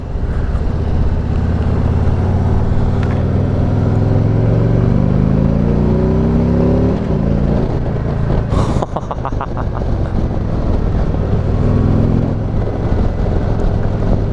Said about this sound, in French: Et le bruit en ligne d'origine, c'est quand même pas mal.